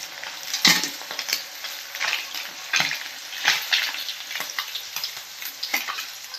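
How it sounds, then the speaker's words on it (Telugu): Small raw fish, pachi nethallu, frying restaurant style in hot oil, giving a continuous close crackling sizzle with repeated scraping stirs and light pan clinks, no voices. "చాలా త్వరగా ఫ్రై అవుతాయి చాలా మెత్తగా ఉంటాయి"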